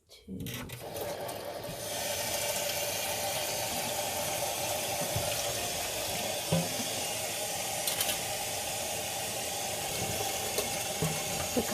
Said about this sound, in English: I'm going to add the water indirectly at the side, not directly on top of the wool.